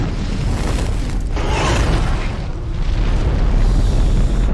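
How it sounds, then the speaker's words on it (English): A big explosion from the James Bond film Skyfall, a heavy, sustained roaring boom that stays loud and dense across the whole stretch, with a brighter burst near the middle and no talk over it. "that was the explosion"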